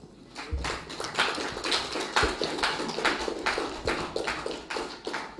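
Steady, fairly rhythmic hand claps ring out at a public debate on security in the Sahel. Each clap is sharp and distinct, several per second, with no talk over them.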